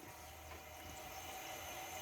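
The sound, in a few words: APEC reverse osmosis unit filling filter units with water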